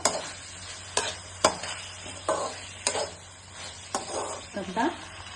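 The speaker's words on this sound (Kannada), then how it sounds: "ಇದರೊಳಗೆ ಚೆನ್ನಾಗಿ ಎಣ್ಣೆ ಒಳಗೆ ಬಾಡಬೇಕದು, ಬಾಡಿ ಮೆತ್ತಗಾಗಬೇಕು." Baby corn and mushroom cook in oil in a pan, heard as a soft sizzle broken by sharp spatula knocks and scrapes every second or so, close and fairly quiet.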